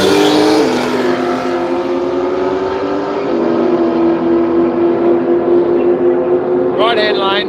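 A Ute on radial tyres drag racing over an eighth mile screams past as one sustained loud engine note, pitch steady with a slight shift, while a commentator talks over it throughout.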